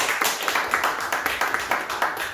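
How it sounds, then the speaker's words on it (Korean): A church congregation at a Korean Sunday worship service claps together in a brisk, fairly even rhythm, a dense patter of many hands that carries on steadily for a couple of seconds. "주님께 영광의 박수."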